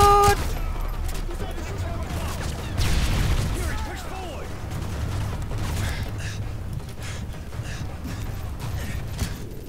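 Video game gunfire in a firefight: a steady wash of shots and blasts runs throughout at fairly loud level, with a heavier burst near the three-second mark, under scattered excited voices.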